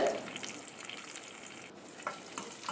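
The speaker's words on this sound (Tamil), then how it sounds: "வெங்காயம் பாதி வதங்கிடுச்சுங்க இப்போ வரமிளகா சேர்த்துக்கலாம்" Onions, dried red chillies and curry leaves sauté in hot oil in a pan, giving a continuous close sizzle with occasional stirring scrapes throughout.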